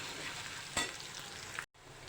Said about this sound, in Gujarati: તો કાંદા સતવાઈ ગયા છે